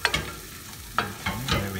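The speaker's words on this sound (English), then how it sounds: "I'm gonna move these potatoes around really fast" Potatoes with turmeric are stirred quickly in a pan over medium heat. A few scraping strokes sound close, over a soft sizzle of frying.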